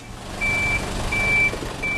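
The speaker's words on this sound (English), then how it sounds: "Finally, a water truck arrives." A water truck arrives at a Haiti earthquake rescue site, its reversing beeps repeating in steady pulses over a loud, continuous diesel rumble close by.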